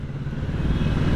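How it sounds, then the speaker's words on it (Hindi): A Kawasaki Z650 motorcycle on a test ride gives a steady, loud, low engine rumble with rushing wind noise, sustained and close throughout the brief stretch. "I'm off on my test ride of the Kawasaki Z650"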